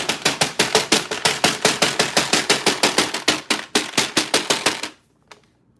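A rapid series of sharp, loud knocks of a macaron tray pounded on a counter, about five per second, pounding steadily for several seconds before stopping abruptly.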